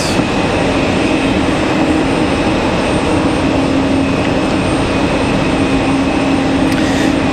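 A Breeze Airways jet landing on runway 23 right at Raleigh-Durham airport on a stormy night, a loud steady broadband engine roar that holds evenly throughout.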